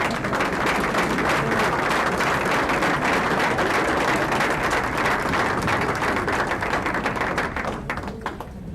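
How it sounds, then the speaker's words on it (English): Audience applause at a school board meeting: a continuous, dense roll of clapping from a room of people, close and fairly loud, tapering toward the end. "Another round of applause."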